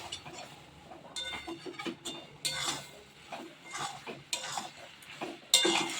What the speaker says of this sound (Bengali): আর একটু আমি এই অল্প আজেই একটু কষিয়ে নেব, যাতে করে মশলাটা একদম ফুলের সাথে গুড় মশলা একদম লেগে যায়।